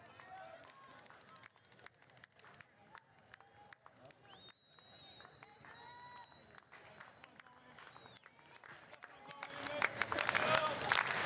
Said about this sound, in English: Back on their feet, clap with them.